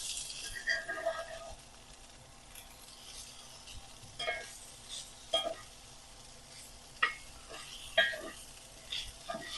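Grated hash browns in a skillet being flipped, with soft sizzling and several sharp scraping and turning sounds from a spatula at close range.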